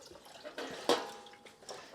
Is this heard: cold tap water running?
yes